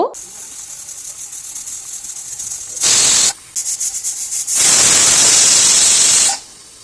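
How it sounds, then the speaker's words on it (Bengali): A pressure cooker on a gas stove lets off loud bursts of hissing steam, one short blast and then a long sustained whistle-hiss, with a quieter rubbing hiss between them. "এবার গ্যাস ওভেনে বসিয়ে জাস্ট দুটো সিটি দিয়ে দেব"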